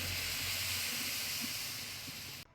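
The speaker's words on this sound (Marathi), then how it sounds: "आता मी हे जे दूध आहे हे पूर्ण ह्याच्यामध्ये ओतून घेते" Milk poured into hot caramelized sugar for caramel basundi lets out a loud, steady hiss that holds for a couple of seconds, then cuts off sharply.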